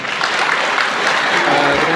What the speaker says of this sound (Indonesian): Applause to all of us.